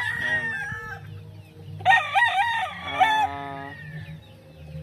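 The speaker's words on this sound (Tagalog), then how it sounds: "Ang yellow-legged hatch." A yellow-legged hatch gamecock rooster crows twice in quick succession, loud and close, the second call longer and rising, with faint clucking and low farmyard murmur underneath.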